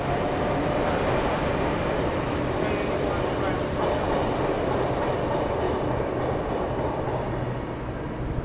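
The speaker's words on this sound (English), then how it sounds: "Starting from platform number 6, Waratah Series 1 set" A Waratah Series 1 electric train runs at platform 6 of Wynyard underground station, a steady rumble and hiss of the train filling the platform with a little rail clatter.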